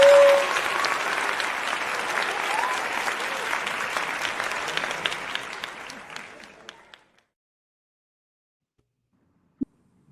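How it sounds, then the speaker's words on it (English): Canned applause sound effect on a late-night radio show, a burst of crowd clapping that thins out and stops after about seven seconds, followed by silence and one faint tap. "I'm gonna go ahead and get your applause in here because the crowd want to give you your applause"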